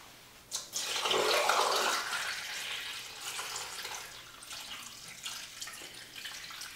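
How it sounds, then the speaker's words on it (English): Boiling water poured from a pot down a clogged shower drain, a sudden splashing gush that rushes and gurgles for a couple of seconds, then thins into a softer trickle. "Step one, pour boiling water down your drain."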